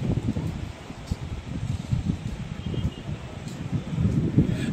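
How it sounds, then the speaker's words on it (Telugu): Strong wind blows at Suryalanka beach near horses, gusting buffets rumbling against the microphone in uneven surges, with voices faintly present beneath. "గాలి ఎంత విపరీతంగా వస్తుందో"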